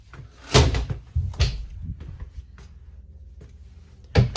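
A walk-through door in a 2017 Lakota Charger horse trailer bangs shut a few times, with sharp knocks and rattles between, followed by a quieter stretch and another thud at the end.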